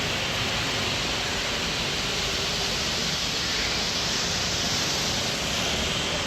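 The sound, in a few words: sea waves at Pondicherry in the morning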